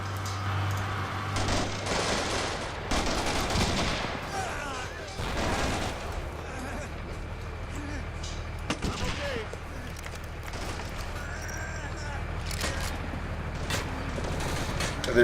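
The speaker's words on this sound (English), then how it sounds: "They're just shooting it with their rifles." Rifle fire rattles in a Combat Mission Black Sea battle, with loud bursts of shots and heavier booms over a constant rumbling backdrop, mixed with game effects.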